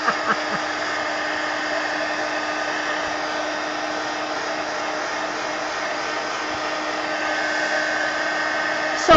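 Heat tool or dryer blowing steadily and loudly to dry wet, soaked ink on an art journal page, a continuous even whoosh with a faint hum running the whole time.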